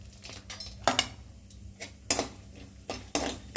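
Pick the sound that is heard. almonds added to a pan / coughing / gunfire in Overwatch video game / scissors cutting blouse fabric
almonds added to a pan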